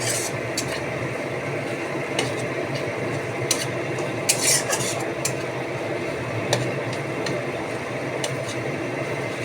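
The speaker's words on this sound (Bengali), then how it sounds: "এবার এটা ভালো করে কষাবো।" Spices and ground roasted masala with tomato being stir-fried for kabuli chana with mutton keema, with a soft background sizzle and intermittent clinks and scrapes of a spatula against the pan.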